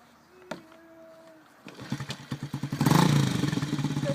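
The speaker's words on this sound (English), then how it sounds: "Starting up the dirt bike." A dirt bike engine is kicked over and catches, sputtering into a rough, uneven idle of rapid pulses that grows louder and steadier, recorded up close from a helmet camera.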